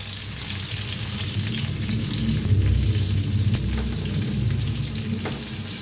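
Stuffed capsicum peppers fry in a pan with a steady, fairly loud sizzle and crackle that runs throughout, swelling slightly midway, with no voices.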